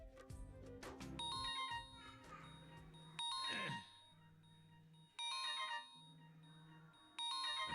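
A mobile phone ringtone plays as a son calls, with a bright repeating electronic melody that sounds in bursts separated by short gaps, clear and fairly close.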